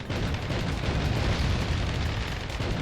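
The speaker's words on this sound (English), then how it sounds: "Grenades." Grenade blasts in the PS2 shooter Fugitive Hunter: War on Terror, a dense, loud rumbling boom that keeps roaring and crackling steadily for about three seconds with no pause.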